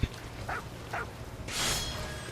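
A dog in the video game What Remains of Edith Finch gives a few short, soft barks or yips, followed by a brighter, hissy burst, fairly faint and heard on its own.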